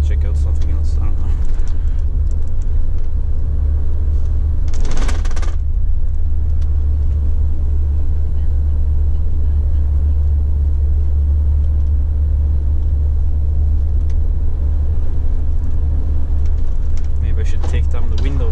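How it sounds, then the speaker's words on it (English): A semi-trailer truck engine rumbles low and steady while driving from Stockholm to Lidingö, a constant deep drone with occasional brief rattles and road noise. "hear the engine noise and whatnot"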